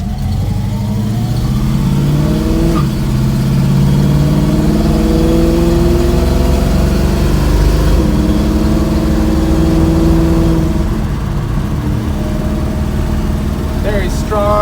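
A 1967 Ford Mustang coupe pulls away down a road, its engine note climbing through several rising revs and gear changes, loud and close from inside or beside the car, with occasional talk over it.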